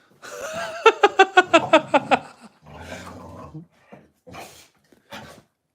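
A husky vocalizes with a rapid, rhythmic string of yowling barks up close, then gives a few shorter, rougher grumbling sounds with pauses between them.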